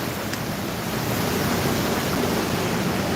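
Waves of floodwater wash in a dense, steady surging hiss beside a flooded road in Nabua, Camarines Sur, close and fairly loud, mixed with a bit of wind. No speech.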